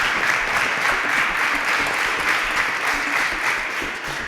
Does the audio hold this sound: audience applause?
yes